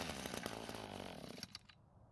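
An Echo gas string trimmer engine buzzes loudly and unevenly, sputtering and rising briefly before cutting off near the end, leaving quiet.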